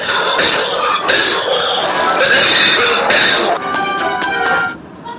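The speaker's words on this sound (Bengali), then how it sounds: "এখন দেখো কাশি দেবে" A dog coughing and hacking after eating paper, several rough bursts in steady succession at close range, loud and harsh, with the last burst fading out.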